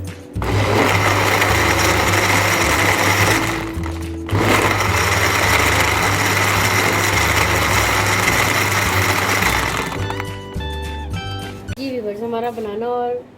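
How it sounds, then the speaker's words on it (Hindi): A blender whirs loudly and steadily as it blends a banana and dates milkshake with ice, with a short pause midway before the motor runs up again and then winds down near the end. "एक बार फिर हम इसे अच्छी तरह ब्लेंड करते हैं।"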